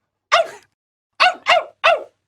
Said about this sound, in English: GELERT looked at his master and barked happily.